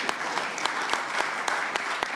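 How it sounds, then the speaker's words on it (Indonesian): A crowd applauds at the declaration event for Indonesian presidential pair Ganjar Pranowo and Mahfud MD, a dense, steady roar of clapping with sharp individual claps standing out, sustained throughout with no talking. "Kita berikan tepuk tangan yang meriah buat beliau."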